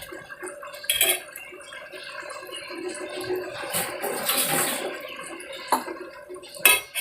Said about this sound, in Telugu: నీళ్ళు పోసుకొని